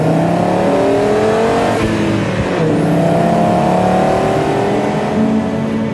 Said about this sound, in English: Whenever a car like that is passing by, you hear this is a 5-cylinder.